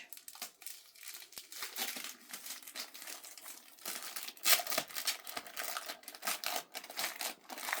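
A pack of paper is handled close by, giving a steady run of crinkling and rustling with a few sharper crackles, quiet overall and with no one speaking.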